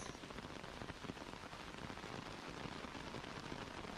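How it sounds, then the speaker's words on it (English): Steady, dense rain pattering on surfaces in a video game exploration scene by a river, a continuous close hiss of countless drops with no pauses and no talk. "I hope everyone's enjoying the coziness of the rain."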